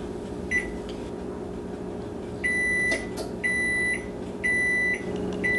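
Control panel of a home oven beeping as the cooking time is set for a baked blueberry cheesecake: a series of short, clear electronic beeps at an irregular pace over a steady low kitchen hum, with no one speaking.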